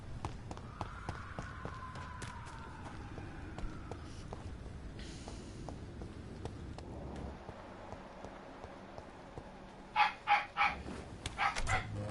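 A dog barks in a short burst of several sharp, fairly close barks near the end, over a steady background hum with a faint whining tone earlier.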